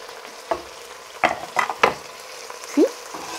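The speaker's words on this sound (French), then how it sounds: "J'ai d'abord fait un petit peu dorer la viande et les oignons avant d'ajouter les autres ingrédients" Meat and onions browning in a pot, a low sizzle broken by a few distinct stirring scrapes and clinks of a utensil against the metal, close and moderately loud, with no talking.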